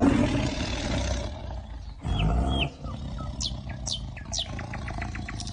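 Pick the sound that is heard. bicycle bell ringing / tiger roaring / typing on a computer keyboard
tiger roaring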